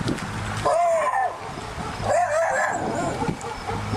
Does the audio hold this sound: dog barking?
yes